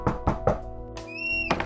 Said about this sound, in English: and I knocked on the door.